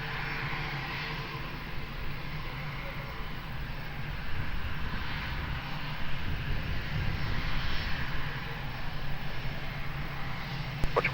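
A plane's engine roars at Lisbon Airport, a steady broad rumble that swells slightly midway and holds throughout, with faint talk in the background.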